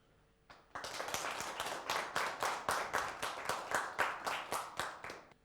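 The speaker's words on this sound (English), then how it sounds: "let's give a round of applause again for the guest of the show today" A talk-show studio audience claps for the guest, with a rhythmic burst of fairly synchronized hand claps that begins suddenly and continues evenly for about five seconds, moderately loud and close.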